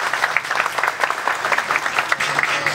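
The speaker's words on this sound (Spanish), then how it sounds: "Roselyn Grullón, a quien le damos un fuerte aplauso." Audience applause at a graduation ceremony: a short, lively burst of many hands clapping together, bright and fairly close, with no speech over it.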